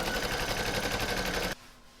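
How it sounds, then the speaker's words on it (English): An embroidery machine stitches a placement outline for an in-the-hoop oven mitt in a rapid, even needle rhythm close by, then stops abruptly, leaving a faint hum. "I'm now going to pop this into my machine and stitch round number 1"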